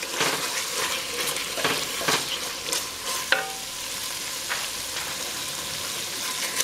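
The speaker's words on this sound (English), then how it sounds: "I'm going to stir that in before I add the other things" Beef bouillon being stirred into homemade spaghetti sauce in a pot, a soft steady simmering sizzle broken by spoon scrapes and knocks against the pot, with no talking.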